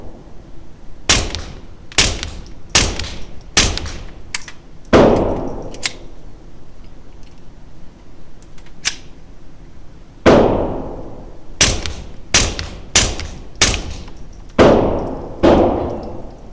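Sig P322 pistol shots ring out loud and close, sharp cracks in quick bursts separated by pauses, each with a bright metallic report and a short decaying tail.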